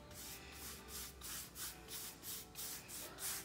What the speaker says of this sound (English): what I'm gonna do is paint over this whole entire stencil